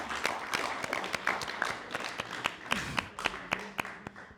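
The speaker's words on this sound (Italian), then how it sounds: "Un applauso solo per questo." Scattered audience applause after a talk, with sparse individual hand claps popping irregularly at a moderate distance and no speech over them.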